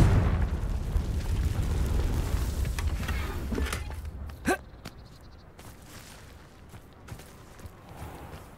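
A Confringo blasting curse detonates in Hogwarts Legacy, one sharp, loud burst cutting through a dense low rumble that fades into quieter ambience, with a smaller pop afterward.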